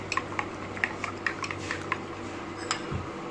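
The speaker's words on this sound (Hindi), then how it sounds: "मिक्स करेंगे बहुत अच्छे से।" A spoon stirs cream and milk together in a dish, making quick light clinks and scrapes against the sides in a brisk irregular rhythm, close and fairly quiet, no voices.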